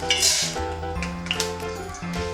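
Urad dal dropped into hot oil in a pan while making curry leaf thuvaiyal, giving soft clinks and a light sizzle against the metal, close and fairly quiet.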